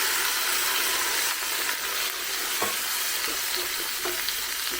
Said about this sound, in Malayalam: നമുക്ക് ഇതിനകത്ത് കുറച്ച് പുളിവെള്ളം ചേർത്ത് കൊടുക്കാം.